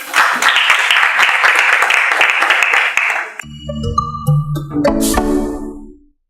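Audience at a panel discussion claps loudly for about three seconds for a member about to ask a question, then the applause stops abruptly and gives way to a short tonal jingle that fades out.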